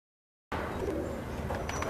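Pigeons coo on a rooftop, a soft low burbling that starts abruptly after a moment of silence and carries on steadily, fairly faint and close.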